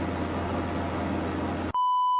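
A timer being set in a bushplane cockpit gives one sustained electronic beep, clear and alone, following a stretch of steady cabin drone that cuts out abruptly.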